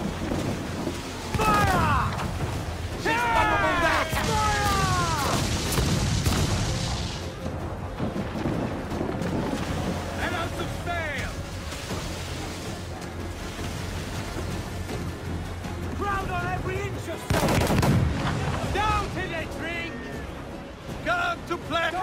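Ship cannons boom in an Assassin's Creed 4 naval battle, heavy blasts near the start and again around the middle and end, over rumbling sea and crew shouting, with a voice talking throughout.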